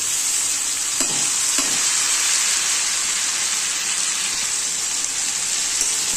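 Cluster beans (gavar) frying in oil, a dense, even hiss of sizzling fat that carries on without a break, with a faint stir or two near the start, close and fairly loud.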